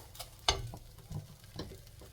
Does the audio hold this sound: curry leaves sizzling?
yes